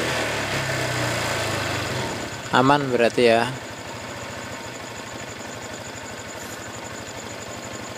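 A Honda Vario 150 scooter engine running roughly idles with a steady low putter throughout. Someone speaks briefly over it partway through.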